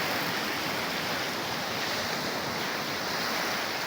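Early-morning sea waves washing in, a steady broad hiss of surf with some wind noise, even and moderately loud with no speech.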